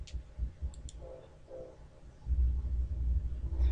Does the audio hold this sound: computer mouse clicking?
yes